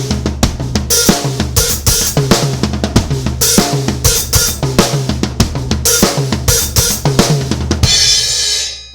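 Funky groove played on the toms, tight repeated drum hits with a quick 16th-note triplet fill near the end before a crash-like wash rings out; loud, close and without talk.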